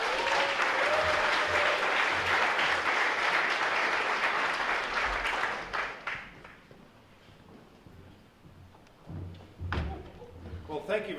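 An audience at an evening awards event gives a keynote speaker a warm, sustained round of applause for about six seconds. It then fades into scattered claps and thumps.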